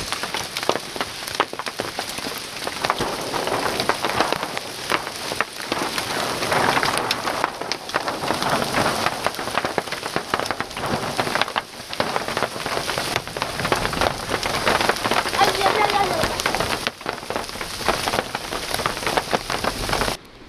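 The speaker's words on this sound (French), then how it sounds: "Il y a des grêlons." Heavy pattering of hard pellets or rain striking a surface, dense and unbroken, loud and close throughout.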